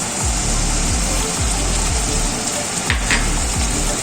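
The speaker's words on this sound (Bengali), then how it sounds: "টমেটো সস এবার নেড়ে চেড়ে নিচ্ছি" Chow mein frying in a pan with soy sauce, chilli sauce, tomato sauce, Kashmiri chilli powder, salt and sugar gives a loud, steady sizzle, with repeated stirring strokes about every half second and no talking.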